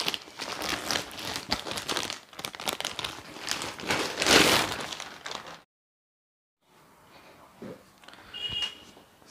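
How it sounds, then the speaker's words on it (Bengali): Plastic packaging of a Guardian Gears Mustang 50-litre saddle bag for a Dominar 400 motorcycle crinkles and tears loudly in close, busy bursts, then goes silent before some softer rustling returns. "তো এটাকে প্রথমে আগে আনবক্স করা যাক"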